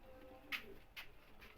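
Large pigeons kept by a breeder, cooing softly in short, quiet bursts, about three calls over a faint background hiss.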